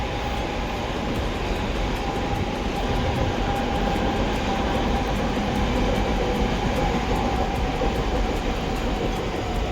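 A train rolls steadily past a home beside a forest, its continuous rumble and clattering wheels loud and close throughout, with no talking.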